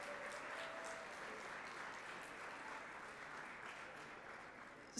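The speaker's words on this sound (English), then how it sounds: "Give yourself another round of applause" A gala crowd at a red carpet charity event gives sustained applause, a soft, somewhat distant wash of clapping with a few sharper claps standing out.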